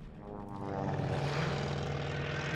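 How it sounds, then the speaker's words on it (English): A propeller warplane in Call of Duty: Vanguard, North African desert at Tobruk, with a droning engine hum that swells as the aircraft passes overhead, loud and sustained with a rough buzzing tone. "That's a plane!"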